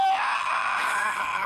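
A person's voice imitates a raptor dinosaur screech, a loud sustained high-pitched wailing cry held for over a second, close to the microphone.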